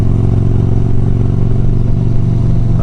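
A loud, steady rumble of many motorcycles riding together at Biketoberfest in Florida, the throbbing engines close and continuous with no speech.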